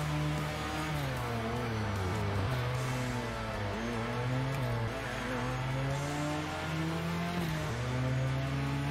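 A race car engine in the video game Hot Lap Racing drones steadily at high revs, its pitch rising and dipping through gear changes over nine seconds, loud and continuous with no voices.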